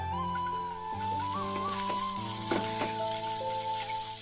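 Chopped green chillies and ginger sauté in a pan with a constant bright sizzle that carries on under clear, tuneful background music.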